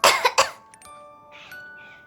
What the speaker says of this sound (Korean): 엄마 기침하는데